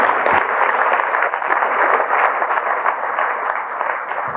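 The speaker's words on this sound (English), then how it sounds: "Let's give Patty a round of applause." An audience at a Scouts council popcorn-sale kickoff meeting gives a loud, close round of applause, a dense crackle of many hands clapping that swells, holds for several seconds and begins to taper.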